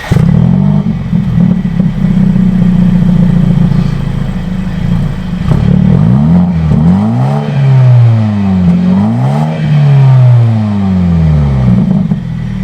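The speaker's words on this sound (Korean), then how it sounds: "안에서 살짝 들리는 이 배기음들, 이런 것들도 즐길 수 있어서 참 좋은 것 같습니다." A BMW 530i M Sport LCI with a four-cylinder engine revs repeatedly, heard from inside the cabin as a steady exhaust drone with several rising and falling rev sweeps, continuous and fairly loud.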